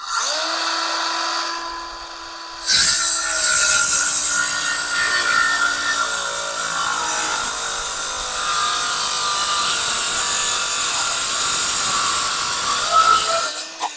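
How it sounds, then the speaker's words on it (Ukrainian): A Vitals Master ARg 18165 cordless circular saw spins up, then bites into wood with a loud, sustained whining rip for about ten seconds before winding down. "Звук я не виключаю, щоб ви чули, як вона ріже."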